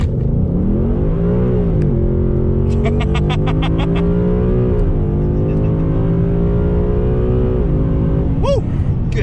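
A Ford Coyote V8 car running on E85 accelerates hard through a full pull, its loud engine note climbing in rising sweeps with gear shifts, close and sustained throughout, with a brief voice near the end.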